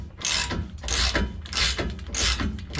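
A hand ratchet cranks a torsion key bolt on a Silverado during a leveling kit install, giving four rhythmic bursts of rapid clicking with short pauses between strokes, close and clear, no talking.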